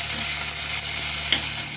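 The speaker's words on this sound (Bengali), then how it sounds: "এবার পেঁয়াজ কুচিগুলো ভালো করে ভেজে নেব।" Chopped onions frying in hot oil in a pan, giving a steady close-up sizzle with faint stirring scrapes and no talking.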